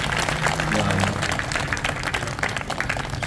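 An audience at a devotional kirtan gathering claps together, a dense continuous patter of applause at moderate loudness that holds steady for a few seconds with faint crowd murmur beneath.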